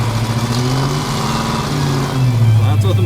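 A car engine revs at half throttle through opened Hooker Header exhaust cutouts, a loud, close, throaty rumble that swells and settles over a few seconds, with a voice briefly talking underneath.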